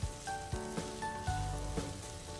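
Chicken pulav ingredients with spring onion sautéing in a pan, a steady quiet sizzle broken by several clanking stirs of a utensil against the pan, close and alone.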